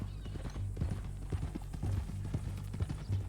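Horse hooves clip-clop in Red Dead Redemption 2, a steady walking rhythm of close, distinct hoof strikes on a dirt path, heard on their own without speech.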